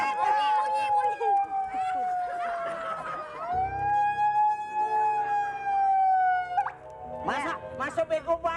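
A wailing siren rises and falls in long sweeping tones over nearly seven seconds, loud and close, with voices talking over it before it cuts off abruptly.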